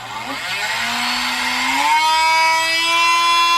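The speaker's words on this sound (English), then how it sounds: "switch the Dremel on" Dremel rotary tool switched on for engraving a handwheel dial on a Centec 2A mill, a high-pitched whine that rises in pitch as it spins up, then holds steady and loud with no talk.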